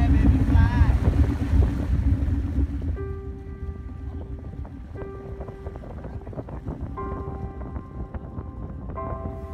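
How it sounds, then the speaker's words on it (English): A boat pushes through rough open ocean on a long crossing toward Tinian. Heavy rushing water and wind noise fill the first few seconds, then a steadier churning wash continues with a faint engine-like hum beneath it. "Aboard Oh Dear, we battled the waves for 10 plus hours headed north to help out."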